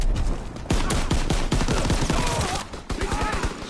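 Dense covering gunfire from World War II rifles and machine guns in Call of Duty WWII, a rapid volley of loud, close shots that keeps up steadily throughout, with a brief lull near the end before more shots crack out.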